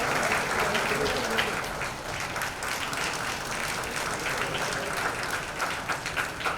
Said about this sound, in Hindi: जीतू जी के लिए एक बार जोरदार तालियां हो जाए